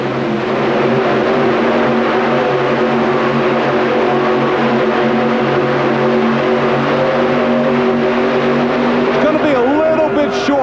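Loud, sustained roar of a 4WD pulling truck, the Red Rabbit from Turlock, California, straining down the track at a 1991 Pontiac Silverdome truck pull, with steady engine harmonics and an announcer talking over it.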